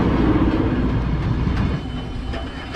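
A train rolls along rails on a Lithuanian railway journey, a dense continuous rumble with rattling. It is loud and close and fades slightly near the end, with no voices.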